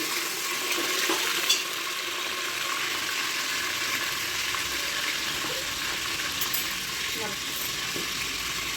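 Biryani ingredients frying in a pan until browned, a loud, continuous close sizzle with occasional stirring scrapes and clinks, steady throughout with no talking.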